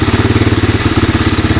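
A 1985 Honda ATC 250SX three-wheeler idles in neutral, its engine putting out a loud, close, steady rhythmic chug with a slight rattle and no voices.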